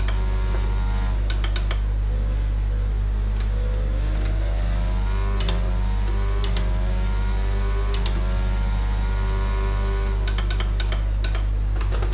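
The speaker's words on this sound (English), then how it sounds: "I'm just driving around with a blown engine." A racing car with a blown engine in the F1 22 video game drones loudly and continuously with a deep low rumble. Rising and falling engine tones and scattered sharp ticking clicks run over it.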